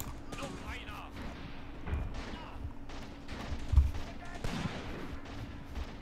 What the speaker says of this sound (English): we still have gunfire coming from this area